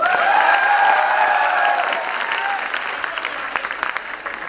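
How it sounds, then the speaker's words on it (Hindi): A crowd at a college film festival applauds a dance performance, dense clapping at first under a fading sustained musical tone, then thinning into looser, more separate claps toward the end. "आपकी डांस फॉर्म के लिए प्लीज एक बार तालियां।"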